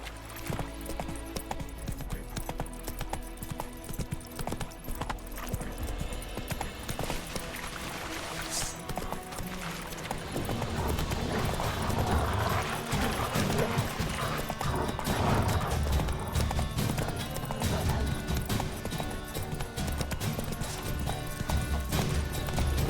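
Roach the horse gallops in The Witcher 3 with rapid hoof clip-clops, growing louder and heavier halfway through over a dense game soundscape with music.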